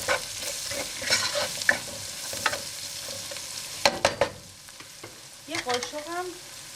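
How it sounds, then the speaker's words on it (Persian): Onions sizzle softly as they fry in a hot pan while a utensil scrapes and stirs in irregular bursts, with a few clinks near the end. "خب اینجا پیازامون رو دیگه گذاشتیم سرخ سبک بشه."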